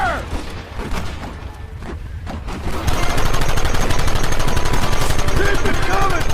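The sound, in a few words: gunfire in the video game Red Dead Redemption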